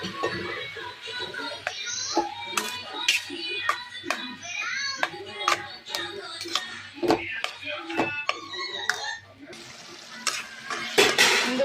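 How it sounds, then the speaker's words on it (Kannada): Beaten rice is fried and stirred in a pan, with a soft steady sizzle under repeated sharp clinks and scrapes of a spoon against the metal, close up, with someone speaking now and then. "ಬಜ್ಜಿಲ್ ಪಾಡ್ಗ ಬಜ್ಜಿಲ್ಲ ಚೂರಂಚೆನೆ ಫ್ರೈ ಆಡು"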